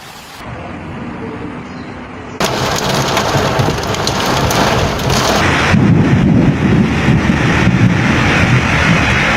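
Heavy rain pours down in a thunderstorm in São José dos Campos, a steady loud hiss that swells abruptly after a couple of seconds, with low rumbling and dense drumming on surfaces throughout.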